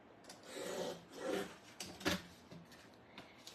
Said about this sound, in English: I'm going to put the corner, the top corner and the bottom corner in my trimmer